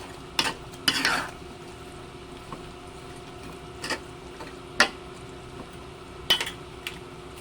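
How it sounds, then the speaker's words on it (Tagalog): A spoon stirs carrots through a pot of chicken curry, giving scattered scrapes and clinks against the pot. A sharper cluster comes early, then isolated taps over a quiet kitchen background. "Haluin muna natin."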